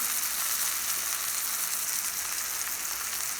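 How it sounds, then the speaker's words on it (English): Beef roast sears in margarine in a pan, giving a steady, even sizzle that holds at moderate loudness throughout, with no voices over it. "I've had this side in the pan with the margarine searing for about 3 to 4 minutes."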